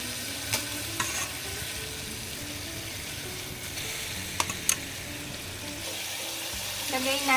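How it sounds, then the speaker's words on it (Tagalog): Pork sizzles steadily as it sears in a pan for Filipino pork adobo, a continuous close frying hiss with occasional light clicks and scrapes of utensils, with no talk heard. "Sear muna natin ang pork."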